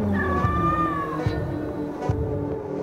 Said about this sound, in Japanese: 野良猫。